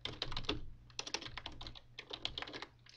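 Quick bursts of keystrokes on a computer keyboard as a file name is entered, close and fairly quiet, with irregular clusters of clicks and short pauses, no voices.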